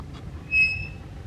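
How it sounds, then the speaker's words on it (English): An old metal cemetery gate from 1912 gives a single brief high squeak as it swings, thin and close above faint outdoor background, with no talk. "Oh, do you hear that squeak?"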